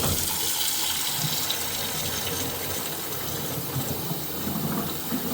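Very hot water runs from a tap into a sink while a stubborn, sudsy pan is washed, a steady close splashing stream that carries on without a break.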